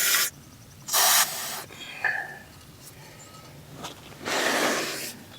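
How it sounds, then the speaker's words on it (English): Several short bursts of dry WD-40 aerosol lubricant spray hiss, close by, onto the joints of a Kioti CK series tractor, separated by pauses with faint background noise. "we can spray these joints with some of this dry WD-40 spray"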